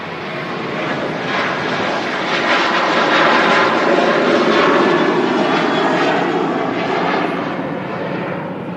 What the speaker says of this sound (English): There we go, Ryanair 737-800.